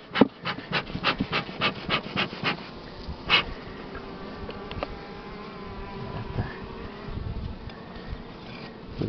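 Buckfast honey bees in an open hive during a spring inspection buzz as a steady hum, with a series of rhythmic scraping or tapping strokes at the start and a louder knock partway through.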